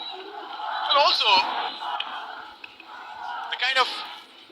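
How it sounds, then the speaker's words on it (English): A large cricket stadium crowd roars and shouts in a continuous wash of noise, swelling into louder jeering surges twice, with a commentator talking over it. "the kind of noise that the crowd is making plays in the mind of the bowler"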